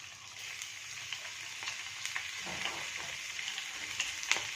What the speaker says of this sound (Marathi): ही क्रिस्पी होईपर्यंत आपण याला फ्राय करणार आहोत